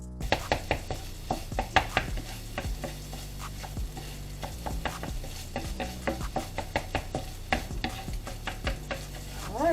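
A wooden spoon stirs scrambled eggs in a pan, giving quick rhythmic scrapes and taps over a soft cooking hiss, close up and without speech.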